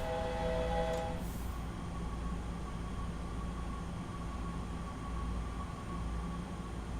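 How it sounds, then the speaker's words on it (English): Electric multiple unit train in a BR 425 rail simulator game, coasting down to a stop: a steady, loud rumble of wheels and running gear with a faint tonal whine, continuous and unbroken throughout. "I'm just going to kind of just let it coast to a stop here"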